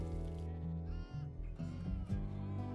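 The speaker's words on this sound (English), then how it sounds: "Jeez, that's a lot of sheep." Sheep bleat in the video game Rimworld, a few wavering calls over a steady hum of game music.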